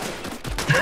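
Gunfire in CS:GO on the Mirage map, a short burst of shots close by with a louder crack near the end, under faint game noise.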